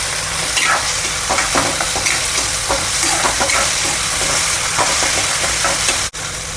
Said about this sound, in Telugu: ఒక 2 మినిట్స్ ఫ్రై అవ్వాలండి.